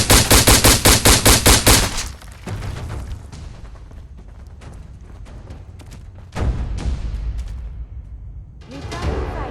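Rapid automatic gunfire in Fallout 4 combat opens with a loud burst of evenly spaced shots, followed by scattered quieter reports and a second heavy volley, with no talk.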